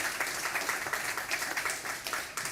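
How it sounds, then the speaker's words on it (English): Steady applause from an audience at an event honouring young poets, moderately distant and continuous for a couple of seconds with no voices on top. "And one more round of applause."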